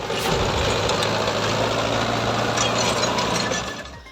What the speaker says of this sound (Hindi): एक किसान ने बारिश से खराब हुई फसल पर ट्रैक्टर दौड़ाकर उसे नेस्तनाबूद कर दिया